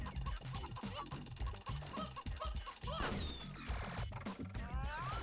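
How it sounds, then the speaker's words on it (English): Chickens cluck and squawk rhythmically inside the background music of a PS1 3D platformer, mixed with percussive hits and sliding synth tones, continuous and fairly busy throughout. "Do all the music tracks have chickens screaming in the background?"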